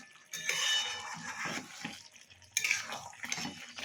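A utensil stirs chicken curry in a pot, giving irregular wet scrapes and light metallic clinks up close, with no one speaking.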